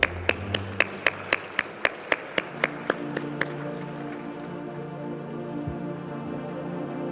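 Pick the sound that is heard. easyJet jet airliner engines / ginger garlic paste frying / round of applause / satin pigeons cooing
round of applause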